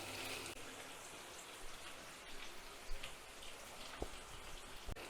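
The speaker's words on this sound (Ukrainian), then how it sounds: "М'ясо вже підсмажилося, і ми додаємо цибулю і підсмажимо ще хвилинки 2-3" Meat and onions sizzle in a frying pan with a continuous crackling hiss, moderately close, with a few sharper pops and spatters scattered through and no talking.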